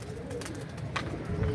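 A trained pigeon coos in low, soft, rolling notes, faint and close, over a quiet background with a brief higher chirp in the middle.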